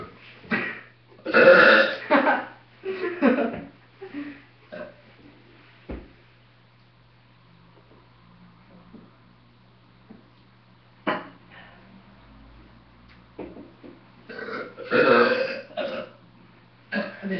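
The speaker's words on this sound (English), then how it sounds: "This is like too watery for my burps." Deliberate burping, several loud, close, drawn-out belches in bursts at the start and again near the end, separated by a long stretch of near silence with a faint steady hum.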